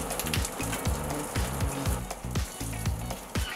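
Gyoza dumplings fry in an IH pot, giving a close, continuous crackling sizzle with rapid irregular pops throughout.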